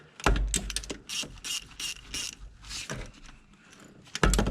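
A ratchet clicks in short bursts while snugging the throttle body bolts on a 1996–2001 Toyota Camry 1MZ-FE V6 in a cross pattern, close and crisp, with brief pauses between runs of clicks.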